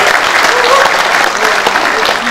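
Audience at a Korean rally for local decentralization giving a loud, dense round of applause, with a faint voice beneath the steady clapping.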